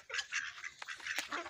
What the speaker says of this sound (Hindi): डॉक्स और इधर भी आ गए यार